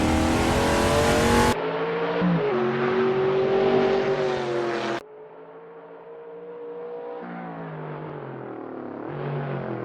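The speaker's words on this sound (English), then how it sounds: "roaring down the straight with that unmistakable engine growl" A Maverick race car's engine drones and growls loudly at high speed down a track straight, holding a steady pitch with abrupt shifts in tone as the sound cuts between views, with no talk.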